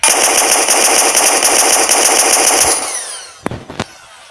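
A minigun in Minecraft Pocket Edition with a guns mod fires a rapid, continuous burst of shots for nearly three seconds, then spins down, followed by two sharp separate blasts.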